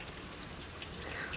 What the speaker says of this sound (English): it's like really, really raining outside right now and thundering.